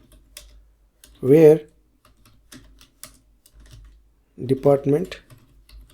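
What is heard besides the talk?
typing an SQL query on a computer keyboard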